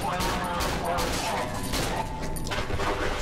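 Rapid gunfire in the horror video game Cry of Fear, with dense overlapping shots filling the whole stretch, loud and close.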